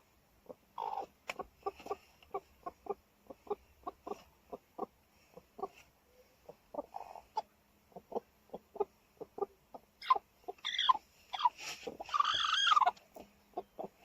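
A broody hen settling onto her eggs gives a long run of rhythmic, low clucks, repeated evenly and close, rising into a louder, more agitated burst of calls toward the end.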